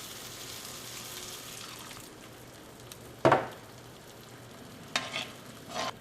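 Coconut milk is poured into a pan of Kerala sardine curry cooked with tomatoes, giving a low simmering hiss with a sudden splash and sizzle, then two shorter bursts of bubbling and stirring.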